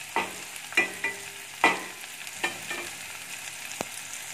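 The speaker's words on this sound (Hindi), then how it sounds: "प्याज को थोड़ा सा ब्राउन होने तक पकाएंगे।" Onions frying in a pan as a methi aloo dish is cooked, with occasional scraping stirs and soft sizzle. Several distinct spoon-on-pan strokes stand out over a quiet, fairly faint background.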